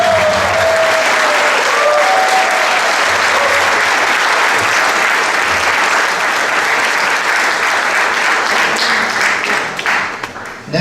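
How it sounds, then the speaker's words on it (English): An audience at a concert applauds loudly and steadily for about ten seconds, dense clapping from a full hall that thins slightly near the end. "Another round of applause for those."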